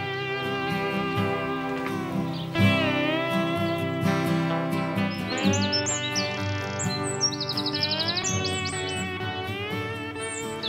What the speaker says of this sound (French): Ce troglodyte chante à plein poumon.